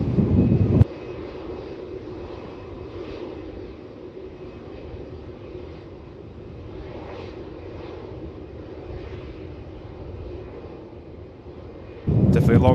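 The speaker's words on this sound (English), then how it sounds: "See a couple of Jetstar aircraft pushing back and starting up." Jetstar airliners push back and start their engines at Melbourne Airport, a steady distant engine roar with brief louder radio-like bursts at the start and end.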